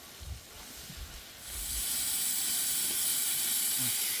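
Onions, tomatoes and green chillies sauté in a pan for Salem-style mutton kulambu: a few faint low knocks at first, then a loud, steady sizzling hiss takes over and holds to the end.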